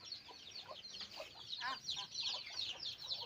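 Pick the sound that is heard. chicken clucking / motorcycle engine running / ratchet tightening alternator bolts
chicken clucking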